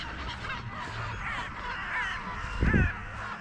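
Crows caw out on an open field during a winter feeding, with several harsh calls scattered across a few seconds, moderately close, and a brief louder rustle or thump near the end.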